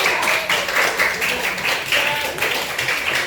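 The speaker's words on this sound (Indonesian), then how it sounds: "bagus, tepuk tangan dulu" A classroom of students claps their hands together in a steady, fairly loud burst of applause lasting a few seconds, with no pause in the sound.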